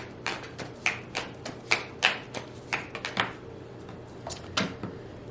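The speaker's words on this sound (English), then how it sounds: "So let's go ahead and shuffle my cards" Tarot cards being shuffled by hand in a quiet room, a string of crisp papery riffles and taps repeating irregularly, soft and close with no talking.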